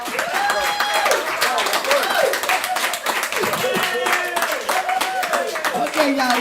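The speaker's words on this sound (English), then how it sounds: "Give him a round of applause." Audience applause at a church gathering: steady clapping and cheering throughout, with voices and music layered over it.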